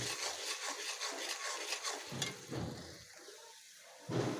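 Eggs stirred and fried in oil in a pan, with soft scraping strokes and a light sizzle coming in short bursts, quiet and close with no talking.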